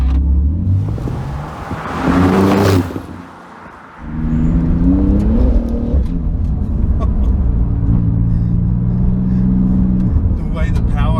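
A Porsche 911 GT2 RS engine roars loudly as it accelerates, its pitch climbing through the gears with a brief dip before surging again.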